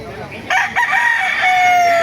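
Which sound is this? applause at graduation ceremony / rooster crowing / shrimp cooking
rooster crowing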